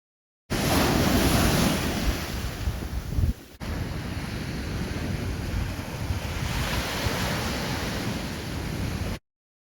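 Ocean waves wash along the shore of Puget Sound under gusting wind that buffets the microphone, a steady roar broken by one brief dropout partway through.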